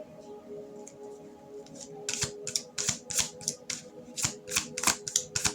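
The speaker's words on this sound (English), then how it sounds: "Look, I cut the deck." Tarot cards being cut and handled, a quick run of crisp papery snaps and flicks, close and fairly quiet, coming in an irregular burst after a softer start.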